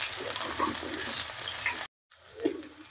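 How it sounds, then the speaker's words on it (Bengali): Mixed vegetables fry lightly in a small amount of hot mustard oil, giving a steady, fairly loud sizzle with stirring scrapes, cut by a brief silence before a quieter sizzle resumes. "হালকা ভেজে নেব।"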